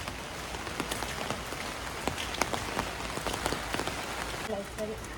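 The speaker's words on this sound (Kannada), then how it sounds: "ಮಳೆ ಬರ್ತಾ ಇದೆ" Rain falls on surfaces outdoors on the way to a temple, making a soft, even patter with scattered sharper drops, fairly faint and steady throughout.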